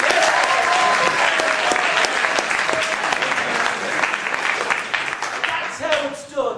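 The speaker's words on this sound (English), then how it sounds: "Big round of applause," Theatre audience at a comedy improv show breaks into loud, sustained applause, dense clapping that holds steady for several seconds before tapering slightly, with a few voices mixed in.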